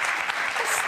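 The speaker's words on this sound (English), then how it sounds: "I don't know what they're applauding for." A brief, dense burst of audience applause in a television talk-show studio, a continuous wash of many hands clapping close and loud.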